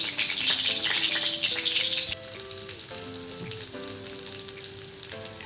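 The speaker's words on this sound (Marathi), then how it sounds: "इथं मी कढई तापत ठेवलेली आहे एक त्याच्यामध्ये थोडंसं तेल टाकलेलं आहे त्याच्यामध्ये हे मुटके सोडून घेते आता आणि फ्राय करून घेते आता" Coriander mutke dumplings frying in a little oil in a kadai give a bright crackling sizzle, loudest in the first two seconds, then settling into a softer steady fry.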